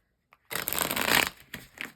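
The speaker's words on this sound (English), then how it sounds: "I'm going to shuffle the cards, focus on Julia's energy." Tarot cards are shuffled in a dense riffling burst after a brief tap, followed by a couple of shorter card-handling sounds, close and clear.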